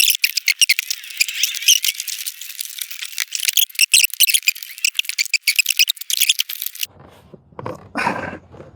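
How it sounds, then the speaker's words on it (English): A plastic door panel on a Chevy Silverado truck is pushed back onto the door, giving a run of close rattling clicks and squeaky snaps, then a short rougher scrape at the end. "I'm gonna pop this door panel back on."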